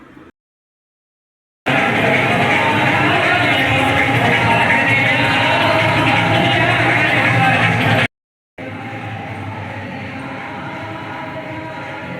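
Dense crowd noise at a night jagran at Chhatarpur temple, a steady loud wash of many voices, chanting and amplified sound, broken by two short silent gaps, continuing somewhat quieter after the second.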